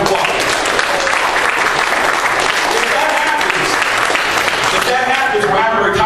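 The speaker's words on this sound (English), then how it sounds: "Give them a hand round of applause" A dense crowd claps at a gathering to honour people retiring from a car dealership. The applause is loud and sustained with cheering voices mixed in.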